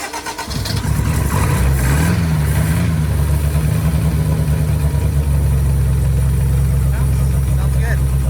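A Toyota Corolla TE72 with a 3TC Hemi engine cranks briefly and catches, then settles into a loud, steady idle with a slightly wavering pitch.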